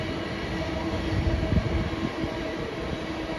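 A train rumbles through Köln Messe/Deutz station, a steady loud roar of wheels and rail noise with a faint high whine, continuous across the clip.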